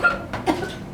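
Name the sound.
coughing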